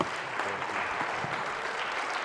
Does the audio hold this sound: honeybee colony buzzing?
no